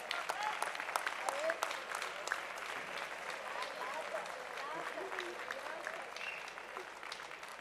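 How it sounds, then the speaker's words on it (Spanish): Audience applause at an award ceremony, with dense, steady clapping from a crowd filling the room throughout, loud and continuous from start to finish. "Un fuerte aplauso para ella."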